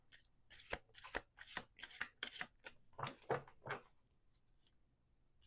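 A deck of oracle cards being shuffled by hand in a series of quick, crisp riffles and soft slaps, close and quiet, with no talking.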